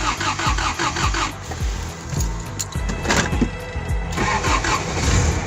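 A $500 Toyota 4Runner's engine cranks with a few rhythmic turns, then catches and fires up, settling into a loud, rough idle close by.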